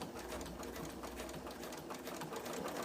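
A sewing machine stitches a zippy pouch, making a faint continuous whirring with a rapid needle rhythm. It runs quietly throughout with no talking.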